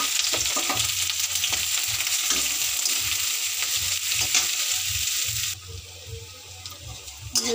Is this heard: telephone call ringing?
no